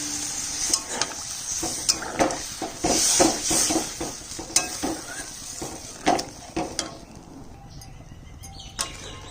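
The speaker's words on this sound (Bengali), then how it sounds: "এবার আমি জল দিয়ে দিচ্ছি।" Water goes into a frying fish curry, and the pan answers with a loud, close, crackling sizzle plus scattered stirring clinks from a spoon against the pot, with no talking.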